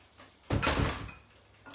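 A door moving in the wind in a kitchen gives a single broad bump and rattle of about a second, fairly close and loud, with a fainter knock at the end.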